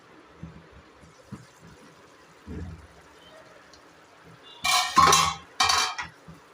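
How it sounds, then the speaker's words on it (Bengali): A metal lid comes off a pan of onion curry with a few soft clinks, then sharp scraping and clattering bursts toward the end, close and clear in a quiet kitchen. "চলো ঢাকনাটা খুলে দেখা যাক"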